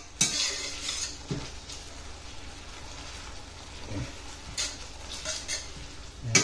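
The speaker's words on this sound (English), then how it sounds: "Okay, just gonna stir it." Rice being stirred in a pot, with scattered scrapes and clinks of a utensil against the metal and a soft background hiss, heard alone at moderate level.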